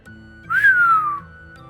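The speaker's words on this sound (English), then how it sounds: "I whistled!" A person whistles one short, clear note that slides up and then glides gently down, close and loud over soft background music.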